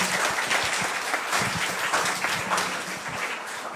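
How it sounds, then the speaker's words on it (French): A church congregation applauds children at their first communion, sustained close clapping from many hands throughout, a little softer toward the end. "Alors, on les applaudit, ces beaux enfants-là."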